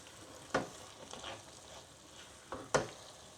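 Fried nuts are folded gently into pineapple rava kesari with a spoon, giving a soft, quiet stir with a few sharp scrapes against the pan spaced across the moment.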